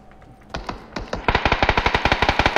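Automatic gunfire in the battle royale game PUBG: a few separate shots early on, then a rapid, steady burst of loud, evenly spaced rounds that runs to the end.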